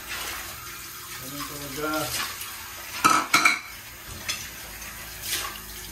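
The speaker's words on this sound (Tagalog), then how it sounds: "Hugas muna tayo ng plato" Plates and dishes are washed under running water: clinking crockery and cutlery, splashing and a flowing tap, with a few brief spoken words mixed in.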